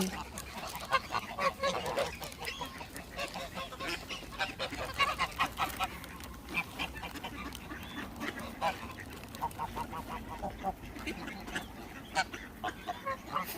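Geese and ducks honk and quack repeatedly in a park in England, a busy overlapping chorus of calls at moderate distance, with people's voices occasionally mixed in.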